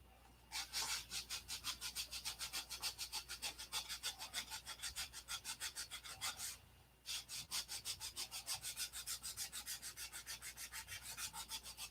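A car cowl is hand-sanded in long, steady back-and-forth strokes, a rhythmic rasping that repeats dozens of times with one brief pause midway, close and fairly quiet.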